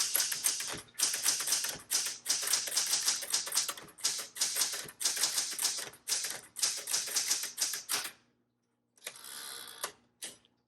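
Rapid, steady keystrokes clatter on a 1976 Classic 12 manual typewriter, close and loud, in bursts with short gaps, then a pause and a brief softer run of typing at the end.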